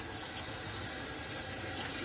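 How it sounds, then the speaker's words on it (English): Cold tap water runs steadily over a hot item being rinsed to cool it, a continuous hissing splash that holds at the same level throughout with no talking. "I'm using cold water to kind of give this thing a nice rinse to make it safe to touch"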